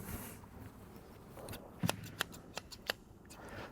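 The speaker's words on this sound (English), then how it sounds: "I'm just going to get a pair of scissors." A few sharp, crisp snips of scissors close by, opening packaging for a GoPro Karma drone, spaced irregularly over a faint background hiss.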